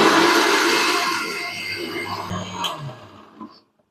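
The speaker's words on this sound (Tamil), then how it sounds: "இப்போ மசாலா அரைச்சி எடுத்தாச்சுங்க." Mixer grinder grinding wet masala for thatta payar kulambu, a loud dense whir that slowly fades and winds down to silence, with a few clinks near the end.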